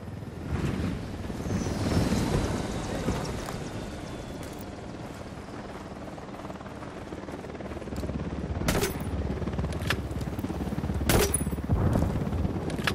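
Loud helicopter rotor thumping in Ghost Recon Wildlands game audio, heavy and continuous, with bursts of gunfire cracking through near the end as the helicopter is shot down.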